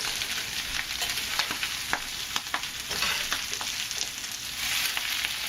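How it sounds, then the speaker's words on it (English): Thin vegetable pieces sizzle steadily in very hot oil, a continuous crackling hiss broken by the scrape and clatter of stirring, close and fairly loud with no talking. "Now we are still frying."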